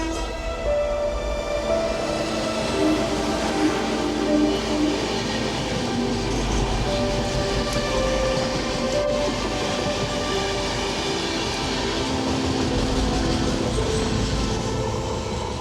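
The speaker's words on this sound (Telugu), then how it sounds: "ట్రైన్ వస్తుంది ఒకటి, అది వెళ్ళిపోయిన తర్వాత ప్లాట్ఫామ్ ఖాళీ అవుద్ది కదా" At Villupuram junction a train rolls past the platform, giving a continuous close, loud rumble of wheels and carriages with faint clatter throughout and no talking.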